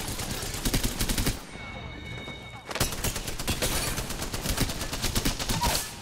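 Spitfire light machine gun in Apex Legends firing long rapid automatic bursts, loud and close, pausing briefly for a moment before the fast stream of shots resumes.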